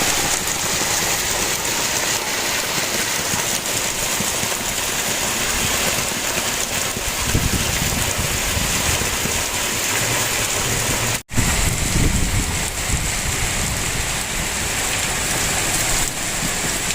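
Steady, dense rain falls on surfaces during a storm with hail in places around Rewa, a continuous close hiss that runs unbroken apart from a momentary cut, with no voices.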